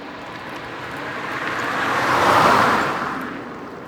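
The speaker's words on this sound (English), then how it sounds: "Bit of traffic this morning." A single vehicle swells past on a roadway beside a cycleway, a broad steady whoosh that builds to a peak and fades, with no talking.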